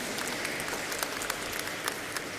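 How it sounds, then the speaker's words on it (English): Audience applause at a company stock listing ceremony, a brief, fairly soft patter of many hands clapping with a few sharper claps standing out. "they deserve a round of applause, everybody"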